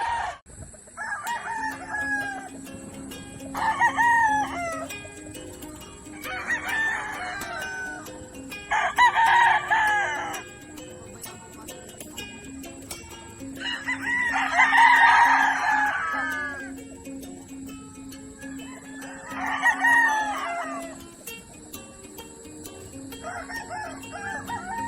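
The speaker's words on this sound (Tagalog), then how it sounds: "marami pa tayong manok dito ngayon" Roosters at a gamefowl farm crow repeatedly, with seven or so loud calls at steady intervals, some close and some a little farther off, over a quiet background with occasional clucking.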